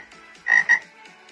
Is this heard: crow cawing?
no